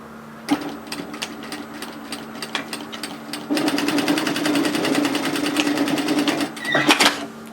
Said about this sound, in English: So sew a seam at 1 centimeter, which is 3/8 of an inch on both sides.